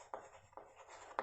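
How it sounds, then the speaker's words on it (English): Pen or marker strokes writing a single word, three short scratchy bursts spaced apart, quiet and close. "Here we write village"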